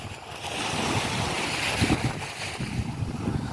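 Sea surf rolling in steadily off Bukana, a broad continuous wash of water with wind rushing across the microphone throughout.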